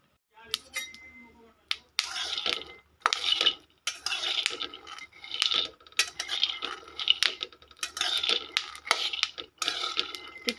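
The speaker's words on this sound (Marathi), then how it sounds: "आता असं शेंगदाणे पण भाजून घेणार आहे खमंग." Peanuts roast in a pan during rainy-weather home cooking, a metal utensil scraping and clattering against the pan in repeated stirring strokes, close and fairly loud, with no talking.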